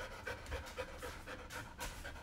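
A dog pants close by in quick, rhythmic breaths, a steady run of soft huffs with no talking over it.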